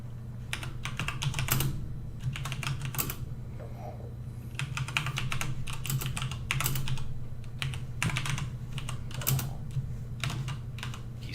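Someone types on a computer keyboard in slow, hunt-and-peck bursts of clacking keys separated by brief pauses, close up over a steady low hum.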